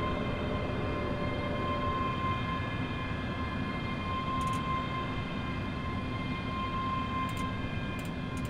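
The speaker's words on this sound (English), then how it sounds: "train now approaching platform 2 is for Larbert." A Class 385 electric train on the Glasgow to Larbert line rumbles steadily near a station platform, a continuous broad roar with a faint tonal whine, with brief high metallic squeaks breaking through a few times.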